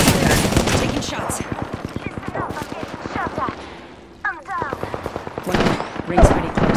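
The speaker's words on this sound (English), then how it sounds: "Taking shots." Apex Legends gunfire, with rapid automatic bursts rattling loudly and close, a short pause, then more clustered shots, while a voice talks over the fighting.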